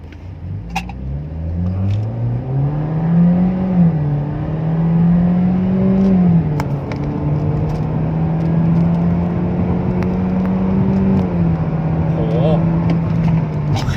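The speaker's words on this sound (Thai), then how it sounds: "ซุ้มเสียงหม้อยูโรอาร์ที่ผมใช้เนี่ย เป็นหม้อชุดท้ายเสียงซูเปอร์คาร์นะครับ" A BMW 1 Series with a Euro Arts rear exhaust pulls hard from inside the cabin, engine pitch climbing through gears with brief dips at shifts, a loud, continuous droning roar.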